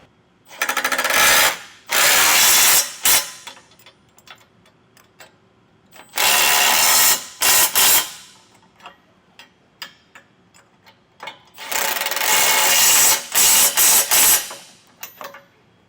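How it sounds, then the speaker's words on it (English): A ratchet wrench tightens base plate bolts on a 2024 Ford Maverick. Three bursts of rapid clicking ratcheting are separated by quiet pauses, with a few scattered metallic taps between them, all close by. "I'm going to go ahead and tighten all these 6 bolts down on either side."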